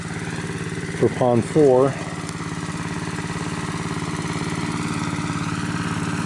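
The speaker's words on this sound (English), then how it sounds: "I'm running this pump the final time" An engine-driven water pump runs beside a pond with a steady, close mid-pitched motor chug throughout, while someone speaks briefly over it near the start.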